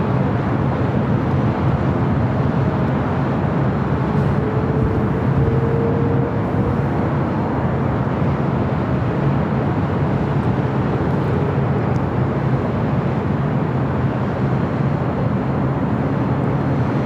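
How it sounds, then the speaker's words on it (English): A China Airlines cargo Boeing 777 freighter rolling for takeoff on the runway at LAX gives a steady broadband engine roar, distant and continuous with no clear rise, and no talk. "China Airlines cargo 777 freighter heading to Taipei, flight 51 at 15 and now rolling down at 25 left"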